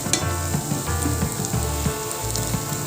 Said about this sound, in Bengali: যেমন আপনারা পোস্তর বড়া ভাজেন ঠিক সেইভাবে ভাজতে হবে।